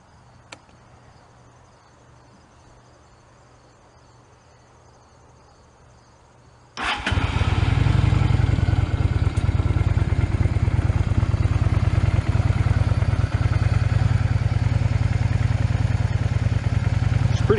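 A stock-exhaust motorcycle fires up after a quiet stretch of crickets and insects, then idles loud and steady, its low rumble filling the rest of the clip.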